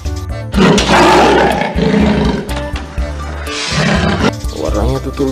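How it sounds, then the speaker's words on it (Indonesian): Loud, rough roars from a toy leopard being loaded into a truck, repeated in bursts over layered music, with a horse-like whinny near the end. "Ini ada macan tutul."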